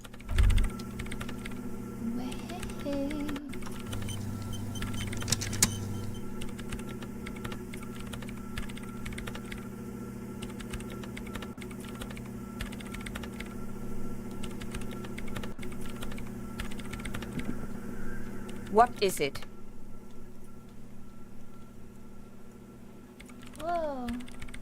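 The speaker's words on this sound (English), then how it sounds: "Woman is still hunched over the keyboard, gently illuminated by the purring machine." Rapid keyboard clacking from the video game Disco Elysium runs steadily under a low machine hum and ambient game music, with brief talk early and a few swooping tones near the end.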